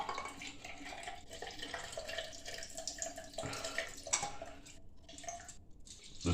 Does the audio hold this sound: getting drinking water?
yes